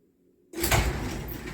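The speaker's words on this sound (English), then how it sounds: "there, the door just opened" A myQ smart garage door opener starts the door moving: after a near-silent moment, a sudden loud rumbling roll of the opening door kicks in and continues steadily.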